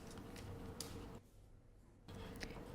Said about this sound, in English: I can start cutting the seam now.